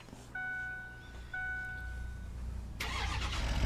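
A newly acquired Ford truck cranks and fires up, a loud burst of engine noise rising after a few seconds of quiet idling hum, with faint tonal beeps from the cab before it.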